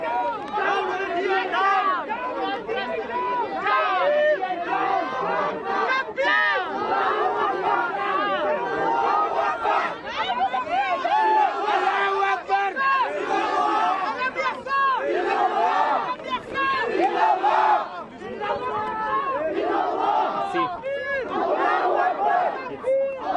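Crowd of demonstrators shouting at a pro-Israel march in Cape Town, a dense, continuous roar of overlapping voices and chanting cries, loud and close throughout with brief dips.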